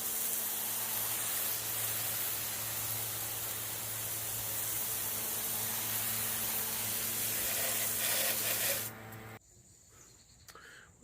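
A water spray hisses in a loud, steady rush as it rinses off a wheel, then cuts out abruptly, leaving quieter background noise.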